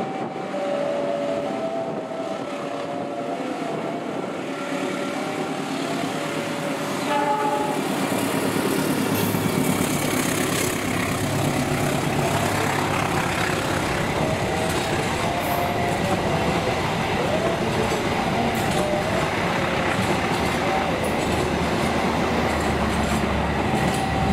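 A long passenger train rolls past close by with a steady loud roar and rumble of wheels and cars that builds and holds throughout, with faint tonal horn notes early on.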